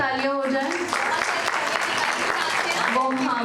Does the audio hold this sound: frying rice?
no